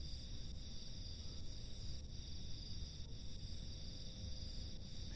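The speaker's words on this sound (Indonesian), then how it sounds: "Diganggu terus ya sama jangkrik serupa." Crickets chirp steadily in a rice field, a constant high-pitched trill carrying on throughout, with a low rumbling background underneath and no talking.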